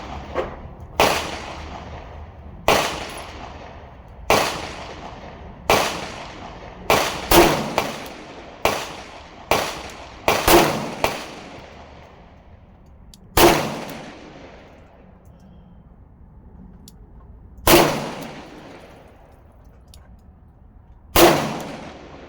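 Gunshots from a Colt Kodiak .44 Magnum revolver, a dozen or so sharp, loud, close blasts spaced irregularly over about twenty seconds, some fired in quick pairs and each followed by a short ringing decay, with no voices.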